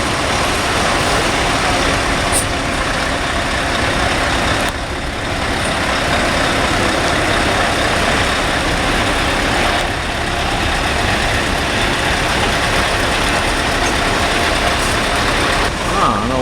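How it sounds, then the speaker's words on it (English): A V8 truck engine idles steadily in a truck convoy, a deep continuous rumble throughout with voices talking faintly over it. "Clearly a V8."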